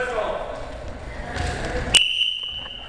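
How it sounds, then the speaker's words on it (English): A sharp whistle blast signals the start of an outdoor airsoft game, sounding loud and sustained after a moment of faint background voices and noise. "Game will start at my whistle."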